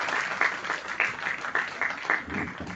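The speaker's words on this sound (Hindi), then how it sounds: "कृपया जोर की तालियों के साथ उनका स्वागत" An indoor audience gives a short, brisk round of applause to welcome a guest, with a close, steady patter of many hands.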